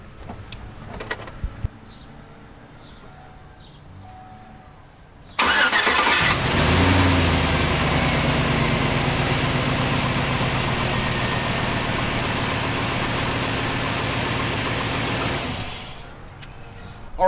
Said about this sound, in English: We can put our engine cover back on and start our car up.